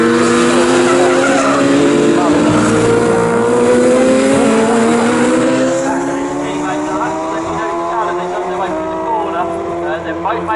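Sports 1000 race cars charge around the Snetterton circuit: loud engine notes rising in pitch as they accelerate, with tire squeal and a second car's whine layered close by, under trackside commentary.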